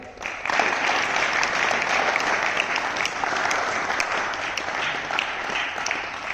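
Sustained applause from an audience at an International Yoga Day event, steady and dense clapping that rises quickly and continues without talk throughout.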